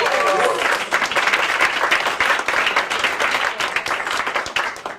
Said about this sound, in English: I think I deserve a bit more applause